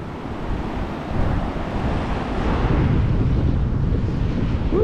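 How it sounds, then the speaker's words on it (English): High Chattahoochee River at a downtown riverwalk, swollen after a day of rain, rushing in a steady broadband roar with gusty wind noise over the microphone, loud and continuous, no talking. "The river is high,"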